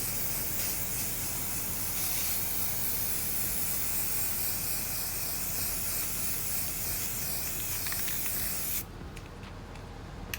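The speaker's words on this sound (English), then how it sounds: "we're just going to spray an even layer to cover." Spray paint hisses from a can onto a DIY rolling tray in one long, close, continuous spray that cuts off near the end.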